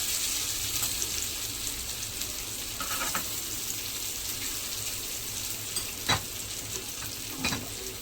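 Kadai paneer cubes frying slowly in a pan, a soft, continuous sizzle with a few scrapes and taps of the spatula, close by, no voices.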